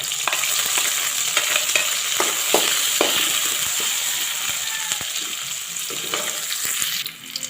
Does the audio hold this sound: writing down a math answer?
no